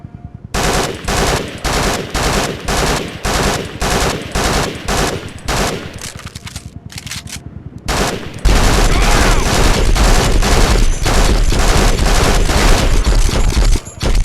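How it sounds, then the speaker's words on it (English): A squad firing at training targets in the video game Conflict: Desert Storm 2, loud rhythmic bursts of automatic fire that repeat, then pause, then swell into a dense continuous fusillade. "I want you to order your men to open fire"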